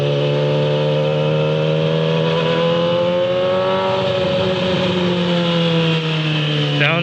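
A motorcycle with a loud exhaust system rides through town, its close, steady engine drone holding an even pitch that swells slightly midway and rises briefly near the end.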